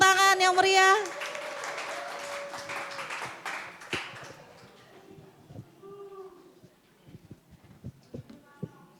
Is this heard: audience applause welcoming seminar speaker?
yes